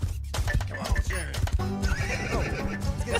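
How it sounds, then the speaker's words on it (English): A horse whinnies with rising and falling cries while hooves clip-clop steadily nearby on a morning show set, with people talking over the animal throughout. "Had to tie up my horse."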